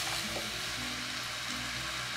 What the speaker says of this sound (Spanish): cazuela bien caliente con un poco de aceite o manteca y a freír